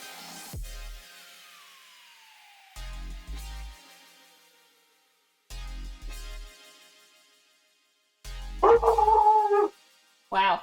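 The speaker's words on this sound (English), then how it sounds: "My dog just heard something." A dog barks and yelps in several loud, separate bursts spread across the stretch, with longer upset vocalizing toward the end and quiet pauses between the outbursts.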